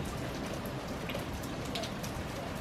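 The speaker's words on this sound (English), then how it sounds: "now it's raining outside" Steady rain falls outside, a dense even hiss of drops hitting surfaces, faint and constant throughout with no talking.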